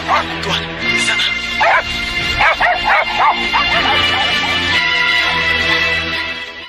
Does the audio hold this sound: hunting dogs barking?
yes